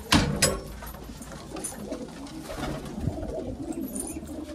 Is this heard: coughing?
no